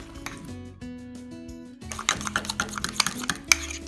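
Microwave mug cake batter stirred in a mug, a run of quick, uneven spoon clinks and scrapes against the mug in the second half, after a quieter tonal opening.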